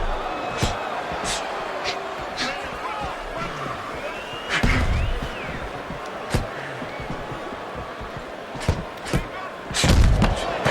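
Punches and jabs landing in a heavyweight boxing match, a series of sharp thuds and slaps, some close together in quick bursts, over a murmuring arena crowd and commentary.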